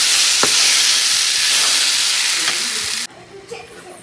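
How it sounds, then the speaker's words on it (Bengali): Potatoes frying in cooked-down spice paste in a home kitchen pan give a loud, steady sizzle and hiss with occasional stirring scrapes, cutting off abruptly near the end to quieter kitchen noise. "এর মধ্যে দিয়ে দিচ্ছি আলু। তো আলুটা ভালো করে কষিয়ে এর মধ্যে জল ঢেলে দেবো।"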